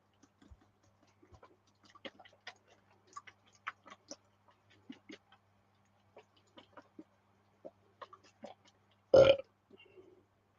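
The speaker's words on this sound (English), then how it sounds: "Chicken burp." A single loud burp erupts near the end after a quiet stretch of small ticking and scratching noises, the belch short, close and much louder than anything around it.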